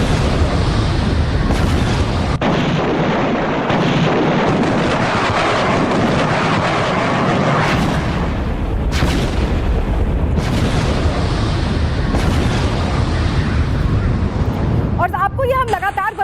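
Explosions in Zanjan city, Iran, heavy booming blasts and rumbling roar filling the whole stretch, loud and continuous with repeated deep bursts and a sharper crackle near the end.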